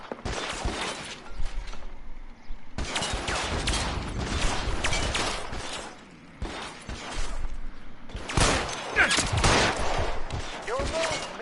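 Shootout in the video game L.A. Noire, with repeated bursts of gunfire and clattering impacts arriving in several loud clusters, broken by short quieter gaps, with voices talking between the shots.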